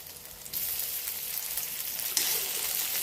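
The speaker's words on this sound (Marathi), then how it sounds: "परतून घ्यायची वांग्याची व्यवस्थित बाजूची परतून घ्यायची म्हणजे तेलामध्ये वांगे चांगले भाजले जातील" Brinjal pieces frying in oil in a pan, a soft sizzle that jumps louder twice as the pieces are turned, then holds a steady crackle.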